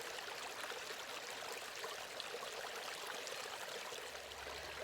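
A Scottish burn runs past a fallen log, its water rushing in a steady, broadband flow that stays even and close throughout, with a faint low hum entering near the end.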